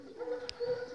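Pigeons in a dovecote give a soft, low coo that starts and stops across a second, with a brief faint chirp in the middle.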